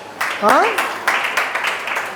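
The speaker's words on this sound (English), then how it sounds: "Sabita has to get a very big round of applause" A hospital lactation-training audience gives Sabita a big round of applause: scattered bursts of hand clapping with voices mixed in, fairly close and steady through the moment.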